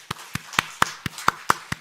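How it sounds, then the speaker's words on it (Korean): Eight sharp hand claps in a steady, even rhythm, fairly close and clear, to honor the elders standing during a Sunday morning church service at Sinseong Church in Jamwon-dong. "우리 박수 한번 해드릴까요?"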